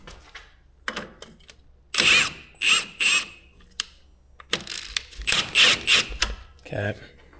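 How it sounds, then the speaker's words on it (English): A ratchet works at a stuck nut on a 2010–2015 Camaro sway bar link, clicking in several short bursts of rapid pawl clatter separated by pauses, close and fairly loud. "We're gonna have to get an 8 mil wrench or ratchet on here."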